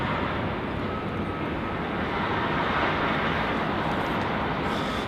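Jetstar flight JQ794 departs Melbourne Airport for the Sunshine Coast, its jet engines giving a loud, steady broadband roar that fills the whole stretch without a break.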